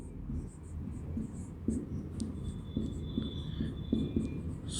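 Pen or chalk writing out a couple of lines of Rajasthani verse, a steady soft scratching with small taps and strokes running throughout, close and fairly quiet, with no talk over it.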